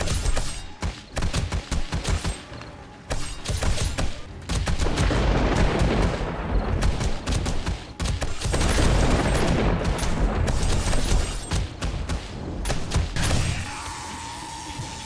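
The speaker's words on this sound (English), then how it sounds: "Seems like the shotgun traps are running out of bullets or something." Shotgun traps fire repeatedly at zombies in the survival game 7 Days to Die, a dense, loud barrage of overlapping blasts rolling almost continuously for about thirteen seconds before easing into a lower hum.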